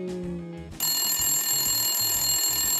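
A toy telephone rings in a fast, bright electronic trill after a short tune, repeating steadily and close with no voices over it.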